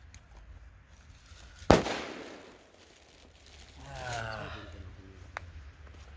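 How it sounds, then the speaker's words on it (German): A single sharp firecracker blast cracks loudly and echoes away outdoors on New Year's Eve in Germany, followed by quieter voices talking. "dann machen wir mal A-Böller"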